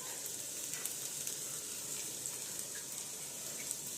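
Water poured into a pan of sizzling masala while cooking a vegetarian biryani, giving a steady, loud hiss and bubbling frying sound that fills the whole stretch with no talk.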